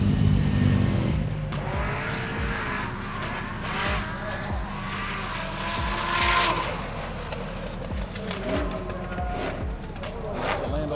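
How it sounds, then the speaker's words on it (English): Roll racing cars speed through the lanes at a Sydney event, their engines roaring up and down the gears as they pass, with tire noise and a commentator talking over the racing throughout. "So a few fast cars coming through the lanes now."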